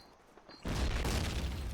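A grenade blast in the World War II shooter Call of Duty on the map Tigertown, bursting loud and close after a quiet lull and rumbling on as a sustained roar.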